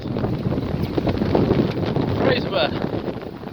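Strong wind of about 23 knots roars and buffets the microphone on a sailboat rounding a headland near Fraserburgh on the Scottish coast. The rushing is loud, continuous and close.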